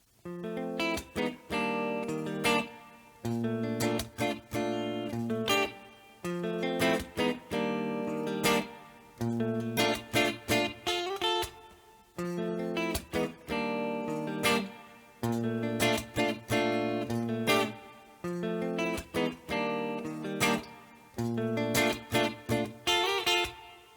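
Guitar strumming a repeating progression of two-note double stop chords in short rhythmic bursts, bright and close, looping several times.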